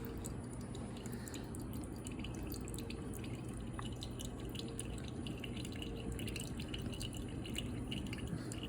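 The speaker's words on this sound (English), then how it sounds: "Here we are, we're pulling a shot." Espresso trickles from a home espresso machine as a shot is pulled, a soft steady dribble under a constant machine hum, fairly quiet and unbroken throughout.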